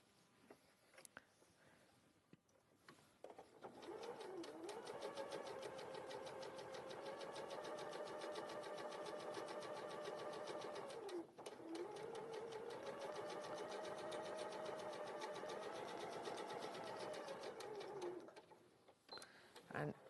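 A domestic sewing machine runs steadily for long stretches while stitching two rows of gathering stitches along fabric, a fast close mechanical whir with a brief pause midway, starting and stopping around it.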